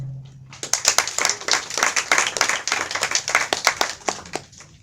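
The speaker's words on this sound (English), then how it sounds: "If we could all give them a round of applause." An audience clapping for an organization at a forum, several seconds of close, dense applause that starts abruptly, holds steady, then thins out toward the end.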